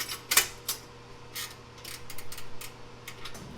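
A V-band clamp is fitted and tightened on a Pypes 3-inch exhaust for an LQ9 engine in a G-body El Camino, heard as quiet, close ratcheting clicks and metallic taps over a low hum.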